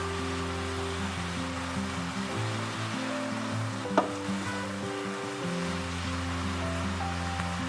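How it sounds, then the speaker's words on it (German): Shrimp frying in a pan with wild garlic in a Chinese-style dish: a steady, even sizzle hisses continuously throughout, with one brief sharp tap midway and no voices over it. "die Garnelen auch rein. Gut braten."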